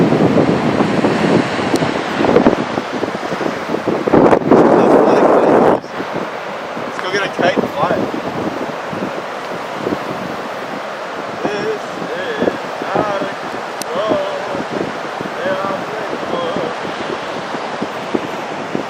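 Strong wind buffeting the microphone over rolling surf at Jalama beach, a loud continuous roar with gusty swells and breaking waves throughout, no voices.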